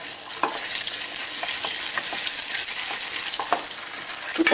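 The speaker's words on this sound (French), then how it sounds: "faites caraméliser le sucre à feu moyen en remuant régulièrement" Sugar caramelizes in a saucepan over medium heat while being stirred steadily, giving a continuous close sizzle with soft scraping strokes from the spoon, no voices.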